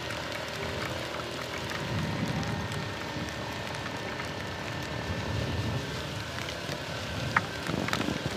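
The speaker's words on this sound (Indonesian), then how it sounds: "hujannya mulai deras lagi" Steady heavy rain pours in a broad, constant wash with a low rumble underneath, holding at an even level throughout without any talking.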